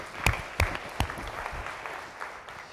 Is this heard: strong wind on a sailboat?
no